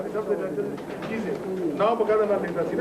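Pigeons coo softly nearby while someone talks over them in Hindi or Urdu, the bird calls mixing under his voice.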